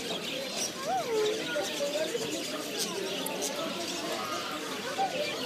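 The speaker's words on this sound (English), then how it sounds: "Look at these beautiful birds." Birds in the Souq Waqif market in Doha, Qatar, chirp and tweet in short rising calls amid a busy crowd murmur and steady background chatter.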